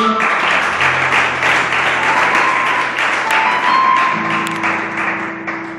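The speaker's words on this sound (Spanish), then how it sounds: "¿Le das un fuerte aplauso, Señor?" Church congregation applauding loudly in a dense, sustained burst of clapping lasting several seconds, with a low organ or keyboard tone holding underneath.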